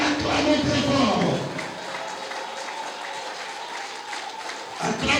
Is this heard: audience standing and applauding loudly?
yes